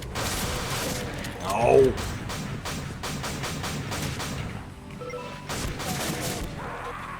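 Chaingunner enemies in a Doom mod fire rapid bursts of gunshots, moderately loud, with shorter volleys scattered through the clip and a person briefly speaking over it.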